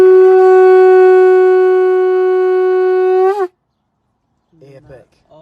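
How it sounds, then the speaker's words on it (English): A loud, sustained conch shell blast holds one steady, bright tone for over three seconds, then cuts off; brief faint voices follow after a pause. "you want to give us a demo of blowing the conch shell?"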